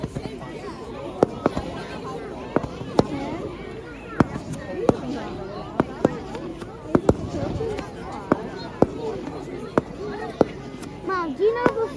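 Fireworks crack and pop sporadically at a bonfire night gathering, sharp bangs spaced irregularly across the scene while children talk and play nearby.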